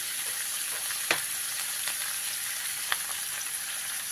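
Raw tomato frying with salt in hot oil for a tangy mourala fish curry: a steady, close sizzle and hiss with a few faint clicks of stirring, and no talking.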